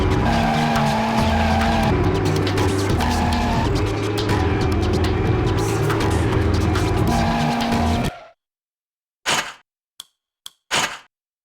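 A car in the Professional Drift D1 Grand Prix racing game skids hard after the e-brake is pulled, with loud sustained tire squeal and engine roar for about eight seconds, then silence broken by a few short bursts.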